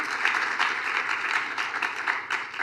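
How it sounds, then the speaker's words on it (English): An audience at a thematic conference session on partnership for the goals claps steadily, a dense even round of applause filling the room throughout. "I feel like that does deserve a round of applause"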